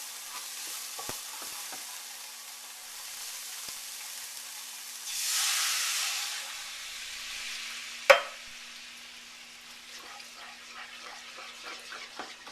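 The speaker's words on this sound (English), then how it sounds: "take your spatula or whatever and stir it real good" Coconut milk is stirred into frying Thai red curry with garlic, a faint low sizzle with soft scraping strokes, a brief louder liquid pour or splash midway and a sharp knock of the spatula against the pan.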